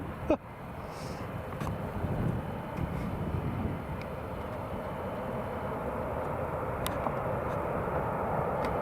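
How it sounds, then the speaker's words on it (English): An airliner landing at Newcastle International Airport with full reverse thrust, a broad, steady roar that builds slightly over time, heard from a distance with wind buffeting the microphone. "Still got full reverse thrust on."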